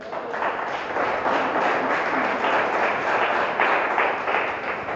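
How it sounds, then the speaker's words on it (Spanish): A church congregation applauds together during a worship service, a steady, dense wash of clapping that fills the room at an even level for several seconds, with no voice standing out. "Denle un fuerte aplauso al Rey"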